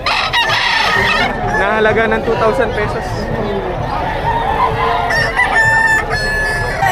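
Roosters crow repeatedly amid clucking chickens at a busy fowl market in Padre Garcia, Batangas, loud and near, with someone talking and crowd chatter over them.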